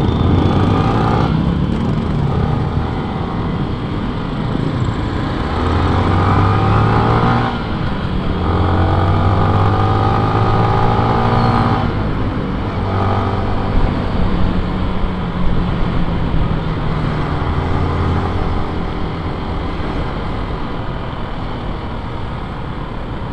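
A motorcycle engine runs steadily during a road trip, a loud continuous drone with gear shifts and slight revving changes, close to the listener with wind noise throughout.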